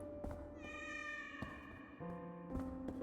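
A cat meows in a dungeon-crawling video game, a few drawn-out synthesized mews rising and falling over steady game music, close and clear with no talk.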